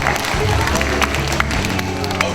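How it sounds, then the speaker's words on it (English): Audience applause at a school robotics presentation, clapping mixed with crowd murmur and a low rumble, steady and fairly loud over its short span. "Oh, congratulations, round of applause."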